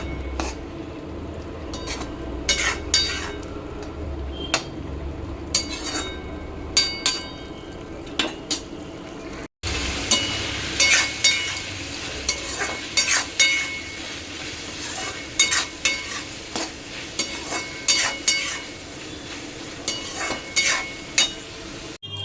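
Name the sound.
curry with ginger, cumin and tomato paste cooking in pan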